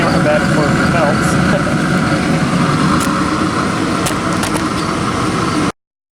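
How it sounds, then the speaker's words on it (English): The fan of a Pit Boss Whiskey Still smoker blows air after a burn-in, making a loud, steady, close whooshing roar that cuts off abruptly at the end. "I think the fan will keep running until the elements cool down, maybe."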